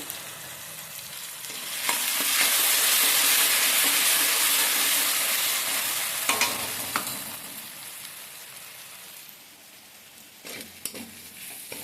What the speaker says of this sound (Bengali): চিকেনগুলো আমি লাল করে ভেজে নিলাম।